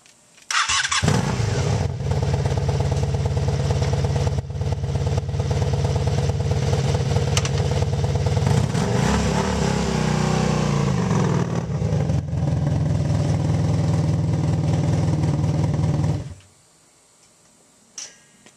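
A motorcycle started after a wet start: the engine catches within a second, then runs loud and steady with a brief rise in revs midway, before cutting off abruptly, leaving near silence and a faint click.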